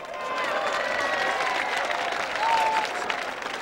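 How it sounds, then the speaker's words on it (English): A large outdoor rally crowd applauding and cheering, a dense continuous wash of clapping and distant voices with a brief whistle rising above it. "You owe yourselves a round of applause."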